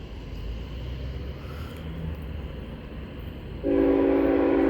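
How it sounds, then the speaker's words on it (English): A CSX freight train approaches a quiet road crossing with a steady low rumble, then sounds a loud, sustained multi-note horn near the end. "Incoming train, get out the track."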